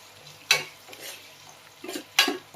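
Onions and a slit green chilli fry quietly in a pan, with a soft sizzle underneath two sharp spoon scrapes against the metal, close by and with no voices.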